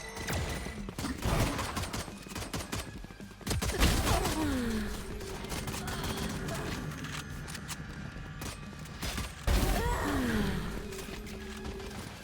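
Valorant gunfire mixed with in-game effects: bursts of rapid shots and sharp impacts, with rising whooshing tones. The sounds are close, dense and busy, with no voice.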